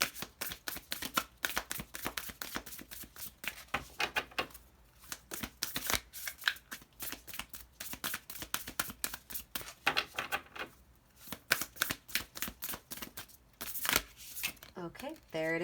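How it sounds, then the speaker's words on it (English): A deck of oracle cards is shuffled by hand. There are quick rapid riffles and flutters in repeated bursts, with brief pauses and a soft voice talking between some of them. The sound is close and crisp. "I saw this too when I cut the deck to shuffle it."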